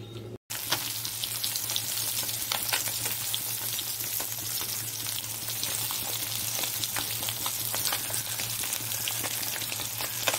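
Fish frying in a pan in a home kitchen, with a steady, close, dense sizzle and crackle and small pops throughout, no voices.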